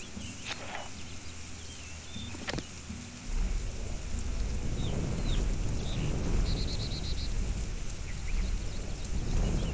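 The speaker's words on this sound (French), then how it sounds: "En plus, il pleut là, vous en avez de l'eau." Steady rain falls in the Sacred 2 video game, a broad hissing wash that swells louder partway through and continues over faint distant chirps and ambient tones.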